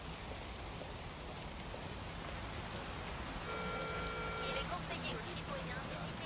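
Rain in the video game Watch Dogs Legion, a dense, even patter of drops on surfaces throughout, with a brief tonal game sound partway through and no voices.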